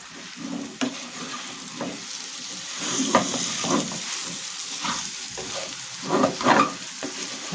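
Boiled, smashed potatoes being mixed into spiced samosa filling in a pan: soft, irregular scraping stirs over a quiet, steady sizzle, close and fairly gentle, with no talk.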